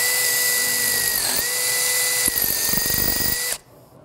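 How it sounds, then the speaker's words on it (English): A power drill with a 5/16 bit whines steadily and loudly, with grinding chatter as it bites into old rusty metal, then cuts off abruptly near the end. "put it in a drill and get down in these holes."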